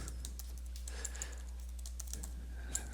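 Typing on a computer keyboard with quiet, irregular key clicks over a steady low electrical hum, fairly faint and with no one talking.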